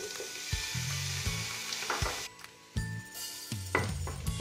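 Onions fry in a pan for penne pasta in white sauce. A steady close sizzle briefly dips near the middle, and repeated utensil clinks and stirring knocks against the pan sound over it.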